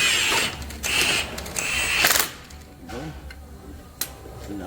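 Bolts being tightened while fitting lowering springs on a PT Cruiser, with bursts of ratcheting clicks and metallic mechanical noise at close range, interspersed with brief quieter gaps.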